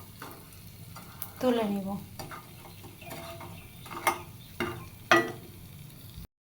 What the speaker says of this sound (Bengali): বড়িগুলো খুব সুন্দর মতো ভেজে